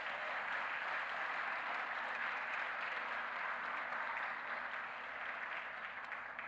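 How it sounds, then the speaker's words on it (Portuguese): Church congregation applauding during a sermon, a long, even roar of many hands clapping at moderate distance, steady and sustained with no speech over it. "Você pode aplaudir a Deus por isso?"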